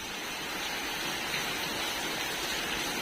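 Heavy rain from a sudden summer storm with strong wind pours down around a new house, a dense, steady hiss of water filling the scene without a break, loud and close with no voices.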